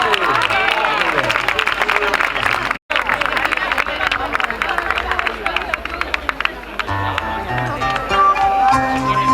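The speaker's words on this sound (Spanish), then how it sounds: "un aplauso para los de la escuela, que van a bailar" Audience applause and cheering at an Aragonese folk festival during the Fiestas del Pilar in Zaragoza, loud sustained clapping mixed with crowd hubbub and voices, broken by one short cut of silence.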